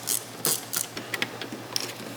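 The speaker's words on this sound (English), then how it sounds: "Go ahead and loosen up your clamp." A hose clamp on the air filter of a Mercedes-AMG GT is loosened with a tool, giving a series of close, sharp ratcheting clicks in short uneven bursts over quiet background.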